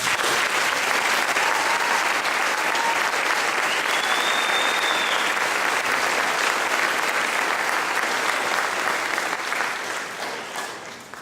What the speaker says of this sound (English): Let's begin by applauding these soon-to-be high schoolers.